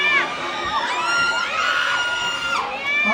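Crowd at a concert screaming and cheering continuously, loud and high-pitched with excited whoops, close and dense throughout.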